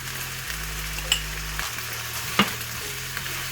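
Chili and coriander powder frying in oil in a pan for brinjal curry while being stirred, a close sizzle with a couple of sharp spoon scrapes against the pan.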